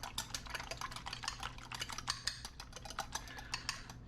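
Egg yolks and whites being whisked together in a bowl for homemade corn boilies for carp, a steady run of quick, rhythmic clicking and tapping strokes heard up close.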